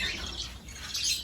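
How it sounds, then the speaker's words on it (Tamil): Pet lovebirds (budgies) in a breeding setup give a continuous bright chirping and twittering, steady and fairly close, with a low background hum underneath. "இதுதான் நம்மளுடைய லவ் பேர்ட்ஸ் ப்ரீடிங் செட்டப்"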